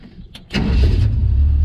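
A 1953 International rat rod pickup cranks briefly, then its engine catches and settles into a loud, steady low idle close to the listener, with no talk over it.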